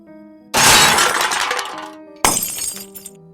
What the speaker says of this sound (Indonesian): Terdengar suara sesuatu terjatuh dan pecah.